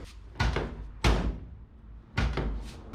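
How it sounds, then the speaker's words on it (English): Door of a 1977 Datsun 620 pickup swinging shut with three solid thunks in quick succession, close and fairly loud, with no voices. "The door open and closes fine."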